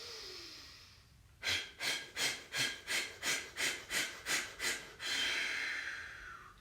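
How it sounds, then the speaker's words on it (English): A deep breathing exercise: one quiet, drawn-out inhale, then about ten short, sharp, evenly spaced exhalations, followed by a long outward breath, close and alone. "you're going to take a deep breath in and you're going to do short, sharp breaths out"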